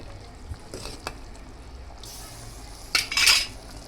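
A spoon scraping and clinking against a pan while sev is stirred into ridge gourd curry over a desi wood stove, soft scrapes followed by a louder clatter toward the end.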